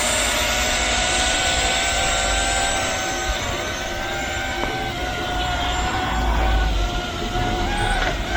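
A Flying Speedy F42 toy drone airplane in flight outdoors, its small electric motors giving a steady high whine with shifting pitch over a constant airy background.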